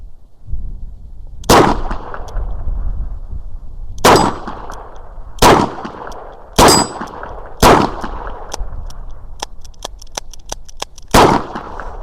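A Chiappa Rhino revolver fires in the open, a light primer strike causing a misfire: sharp, loud metallic reports ringing out alone, about six shots spaced irregularly, with one faint click among them.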